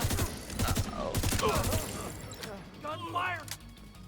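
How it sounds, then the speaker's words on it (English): Rapid bursts of video game gunfire crackle in quick, repeated volleys, loud and close, followed by clanking mechanical sounds, with voices shouting in between. "Gunfire!"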